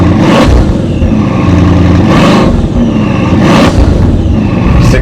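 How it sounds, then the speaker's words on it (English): A Bugatti Mistral's 8-litre quad-turbo W16 engine revs hard close by, its loud, dense roar swelling in several repeated surges over a continuous throaty drone. "8 litre, 16 cylinder, quad turbo"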